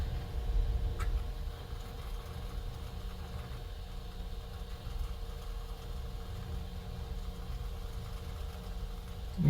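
An old #322 model steam engine toy train running with a binding eccentric, giving a quiet, steady low whirring hum that continues on its own.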